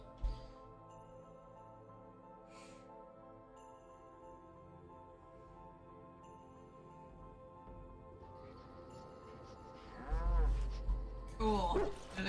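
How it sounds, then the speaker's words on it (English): A cow moos inside the Dragon Age Origins video game, with low drawn-out lowing late in the clip, moderately loud over quiet game music and ambience. "There's a cow somewhere."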